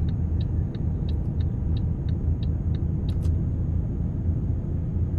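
Steady low truck engine rumble on the road in Euro Truck Simulator 2 while overtaking, a continuous loud drone with faint light ticking clicks over it.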